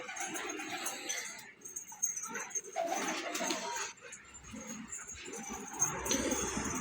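Pigeons coo softly and continuously while feeding on leftover brewed tea leaves, with rustling, pecking and faint bird calls layered throughout at close range.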